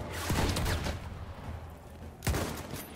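Gunfire in the World War I shooter game Battlefield 1: two loud bursts of shots with rumbling echoes, one at the start and another near the end, separated by a quieter stretch of battle ambience.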